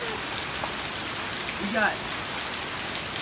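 Hail falls in a steady, dense hiss of pattering hits on the ground nearby while someone speaks briefly over it.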